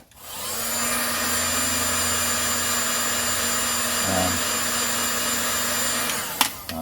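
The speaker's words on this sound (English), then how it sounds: "I'm just chucking a tiny bit of heat on the top just to help it seal off a bit." Heat gun blowing hot air onto the top of a Kawasaki ZX6R motorcycle fairing: a steady close whooshing roar with a constant motor hum, running unbroken for several seconds before a brief click near the end.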